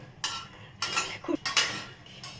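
Almonds tipped into a pan and stirred for roasting in a home kitchen, giving several bursts of rattling, clinking clatter from nuts and utensil against the pan, close and moderately loud.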